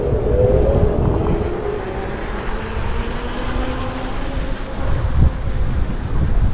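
An Etwow Dual GT15 electric scooter accelerating outdoors in the cold: a rising whine buried under heavy wind rush across the microphone, steady and continuous with no talk.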